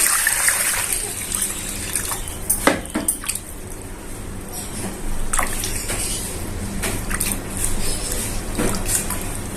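Water poured over small fish in a container to wash them, a close, continuous splashing and trickling with repeated sharp gushes and drips, with no voices.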